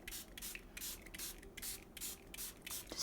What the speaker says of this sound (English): Then spray it some more,